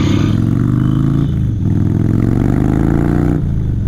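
Indian Chief motorcycle engine revving loudly and close with a steady low rumble, dipping briefly between pulls before climbing again, no voices over it.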